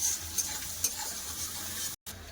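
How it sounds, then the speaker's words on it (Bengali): Chopped onions sizzle and fry in a pan with cumin in oil, a steady soft crackle with a few light stirring scrapes and a brief dropout near the end. "পেঁয়াজ আরো লাল করে ভেজে দেবো"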